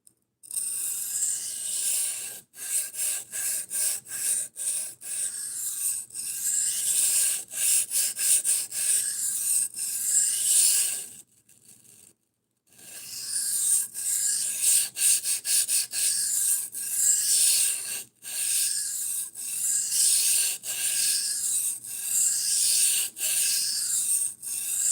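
Steady back-and-forth rasping of a knife blade being sharpened on a 400 grit stone, close and continuous strokes with one short pause midway, no talking.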